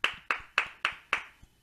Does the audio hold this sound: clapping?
yes